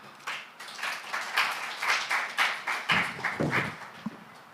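Audience at an academia, public and private sector partnership forum breaks into applause after a speech: a steady wash of clapping across the hall, swelling and easing in waves, with a few sharper nearby claps near the end.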